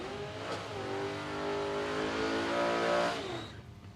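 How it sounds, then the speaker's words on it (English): Drag cars doing smoky burnouts at Palmyra Raceway, Australia, engines revving hard in a rising, harmonic-rich howl for a few seconds before backing off, loud and close. "Nice pair of smoky burnouts from this pair"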